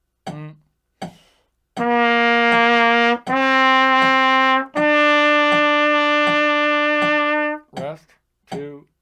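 A trumpet plays long half and whole notes stepping up a scale, sustained bright tones at a slow tempo, with a voice counting aloud at the start and end.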